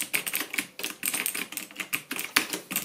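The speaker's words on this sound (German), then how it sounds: "Und wir können mal kurz den Tipptest machen." Typing on an inexpensive Action-brand mechanical keyboard with Cherry MX Blue clone switches: a quick, steady run of bright, clicky keystrokes, close and loud, with no voice.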